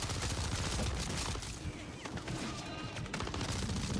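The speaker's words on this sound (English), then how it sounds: "shoot into that group with our Scorcher" Scorcher gun fired at a group of zombies in MW3 Zombies, rapid repeated bursts of crackling, popping fire blending with impacts in a dense steady barrage, moderately quiet and continuous.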